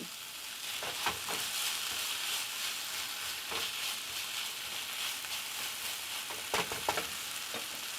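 Scallions frying in a pan for vegetable lo mein, a steady close sizzle with a few sharp stirring scrapes and taps, and no talking.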